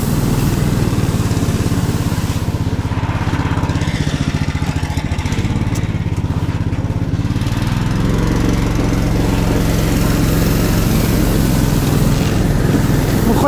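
Small engine vehicle hauling rails at nearly full throttle, a loud, steady, buzzing drone with a deep rumble that barely varies in pitch across the whole stretch, close up.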